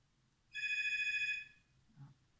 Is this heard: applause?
no